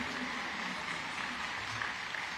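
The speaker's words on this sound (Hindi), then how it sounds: "एक बार महाराष्ट्र शासन के लिए बड़ी जोर से ताली बजाकर ये योग्य सम्मान का समर्थन करिए" A crowd at a Maharashtra Bhushan award ceremony in Raigad applauds, a dense, steady wash of clapping from a large audience, heard somewhat distant and without speech.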